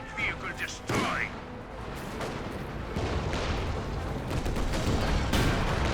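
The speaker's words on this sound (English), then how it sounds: "Cromwell does take a good shot there." Cromwell tank firing a shot in Company of Heroes 2, a World War II strategy game: a loud cannon blast near the start, followed by continuous battlefield gunfire and explosions, with occasional talk.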